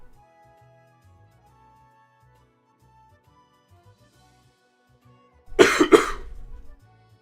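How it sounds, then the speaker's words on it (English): A single loud cough, a quick double burst, after several seconds of near silence. "It's not that loud of the cough sound."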